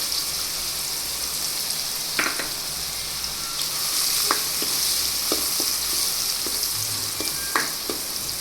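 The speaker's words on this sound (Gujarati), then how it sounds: "હવે લસણ આપણું તેલમાં થોડુંક સતડાઈ જાય ત્યાર પછી આપણે આ ડુંગળી લઈ લીધી છે તેને આપણે એડ કરી દઈશું" Chopped onion goes into hot oil already frying garlic in a Gujarati home kitchen, giving a steady close sizzle with scattered crackles and faint stirring clicks.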